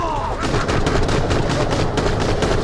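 Rapid machine-gun fire from Borderlands: The Pre-Sequel rattles loudly and continuously in dense, even bursts, close up and filling the whole stretch.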